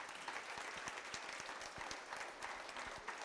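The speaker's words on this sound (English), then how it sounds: "Give the Lord a hand clap this morning." Church congregation clapping during a morning service, faint and somewhat distant, a steady patter of many hands with some distinct individual claps standing out.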